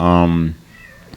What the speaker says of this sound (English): If you hear a cat in the background, that's a Penelope.